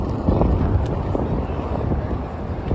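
Strong wind buffets the microphone at Columbus Circle in Midtown Manhattan, New York, on a windy night, a steady loud rumbling roar with gusty swells and no speech over it.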